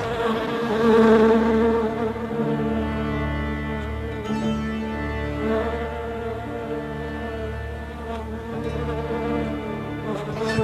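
Hundreds of bees buzz in a dense, continuous drone that swells and eases slightly but never stops, close and fairly loud, with no voices.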